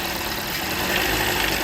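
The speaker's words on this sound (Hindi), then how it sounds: "हमने इंजन को स्टार्ट किया है और इसको एक्सीलेटर दें तो आवाज़ आती है अंदर से" A car engine with a stuck, jammed timing chain tensioner runs at steady revs, giving a loud, constant mechanical whir and rattle from inside the engine with no break.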